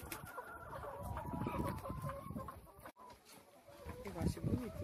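Chickens clucking on a small rural farm while eating feed and milk, with busy overlapping clucks and cackles throughout, and a voice talking over them.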